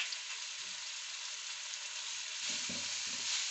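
Spices and onions frying in hot oil: a steady, close sizzle holds throughout, with a few soft stirring scrapes near the end and no talking.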